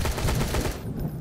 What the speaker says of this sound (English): There were more people shooting from that direction in there somewhere.